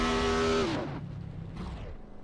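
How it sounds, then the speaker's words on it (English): A race car doing donuts at a Southern Excitement Racing League event at Dover: a loud engine drone that drops away abruptly, then a fainter rumble and brief tire scrub. "Blake Giglio getting all those donuts in"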